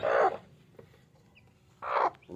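A mother hen in its coop gives two short, close, raspy clucks about two seconds apart over a quiet, faintly noisy background.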